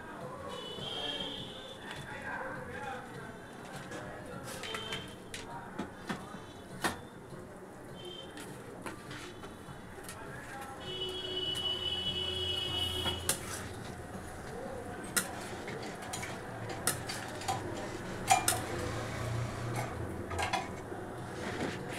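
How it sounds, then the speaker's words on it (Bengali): Fried pakoras go into a pan of curry, with repeated clinks and scrapes of a utensil against the pan, sharp knocks scattered throughout, faint kitchen background and some quiet talk. "পকোড়াগুলো এতে ঢেলে দিলাম।"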